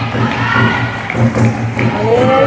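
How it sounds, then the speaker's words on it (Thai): A crowd cheers at a mixed-doubles sepak takraw match between Chiang Mai and Chonburi, with swelling waves of shouting and applause running under an announcer's voice. "กองเชียร์ทั้งสองฝั่งนะชนบุรีก็กองเชียร์มาแล้วนะ"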